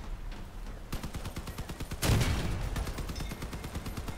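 Rapid weapon fire in the vehicle combat game Crossout, a dense stream of repeated shots with a heavier blast midway, loud and continuous with no talk.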